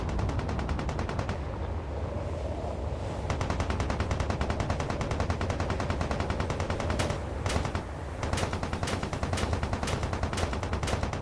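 Rapid machine gun fire rattles in Space Engineers, a continuous stream of sharp shots with a brief pause before bursts resume, alongside distant gunfire and battle noise, no talking.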